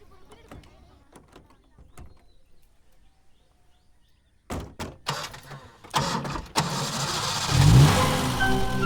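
A car engine cranks and starts in a village scene, sharp clicks and a door thump followed by the engine catching and settling into a steady loud idle, with people talking nearby.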